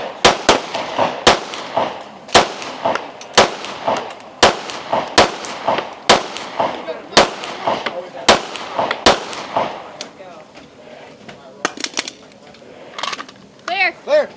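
Pistol fired at a women's tactical shooting competition, about a dozen sharp, loud cracks in a fairly even rhythm, then a few scattered clanks as people talk.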